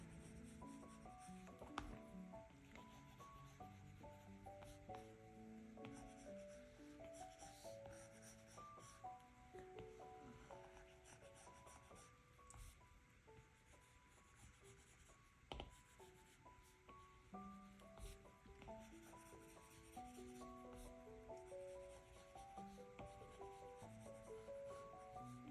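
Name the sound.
stylus scrubbing on a tablet screen in Procreate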